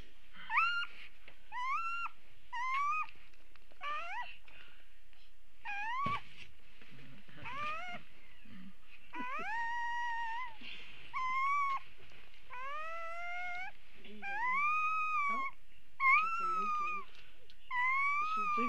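A young puppy whimpers and cries in repeated high, rising and falling squeals, close and fairly faint, some calls drawn out like small howls, with quiet background noise and no clear speech.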